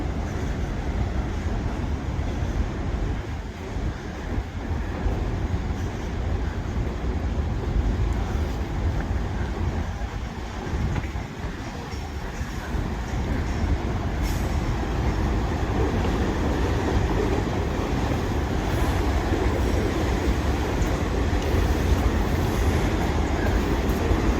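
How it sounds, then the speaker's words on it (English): A train rumbles steadily along a railroad track near a river in the Appalachians, a continuous low roar with some wind buffeting the microphone, heard from a distance without speech. "The train's going down it right now."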